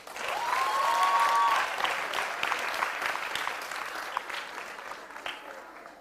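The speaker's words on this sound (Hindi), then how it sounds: "अब तो तालियां बजा लो रे।" A quiz show audience claps in a sustained round of applause that is loudest at the start and then eases off, with a voice speaking over it and a brief tonal sound near the beginning.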